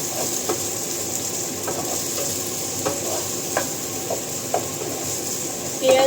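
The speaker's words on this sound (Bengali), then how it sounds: "পেঁয়াজ, রসুন, বেশি করে পেঁয়াজ, রসুন, টমেটো এগুলো দিয়ে একটু আমি ভাজা ভাজা করে" Onion, garlic and tomato sizzle in a frying pan under a steady hiss, with scattered soft clicks of a spoon stirring and scraping throughout.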